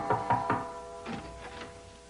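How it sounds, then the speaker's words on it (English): Knocking on a door: three quick raps, a short pause, then three softer knocks, heard fairly close with no voices. "Would you get that before he knocks the door down?"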